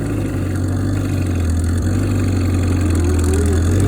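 The engine of a 154 Cub Lo Boy tractor with an out-of-adjustment carburetor runs close and loud at a steady idle, a constant low drone with no talk.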